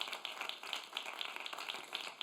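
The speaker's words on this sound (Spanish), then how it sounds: "Dale aplauso, aleluya." Quiet applause from a church congregation fills the space in a steady, dense patter of many hands clapping, somewhat distant and soft throughout.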